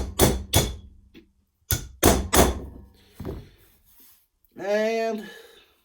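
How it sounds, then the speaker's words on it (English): A hammer drives a steel punch against a metal primer to push a dent back out: five sharp, close strikes in two quick bursts, followed by a short spoken phrase. "I'm going to take my punch and get it right over top of that."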